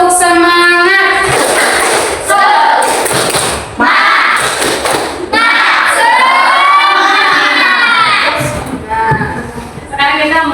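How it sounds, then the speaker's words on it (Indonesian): Schoolchildren in an Indonesian classroom clap rhythmically and shout a spirited group chant led by their teacher, loud and energetic with bursts of voices and hand claps throughout. "kita lakukan tepuk semangat. Ibu pimpin tepuk semangat."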